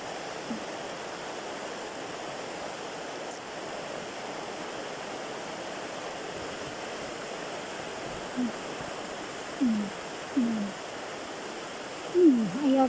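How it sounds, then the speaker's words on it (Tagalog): Steady, dense hiss of heavy rain pours continuously, with a few short voices breaking in near the end. "Maulan, lakas ng ulan oh."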